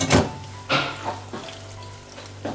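Meat and its steaming sauce are poured into a pot of egusi soup, making a few close, wet thuds and splashes at irregular intervals with a brief sizzle, then a short quiet stretch before another plop.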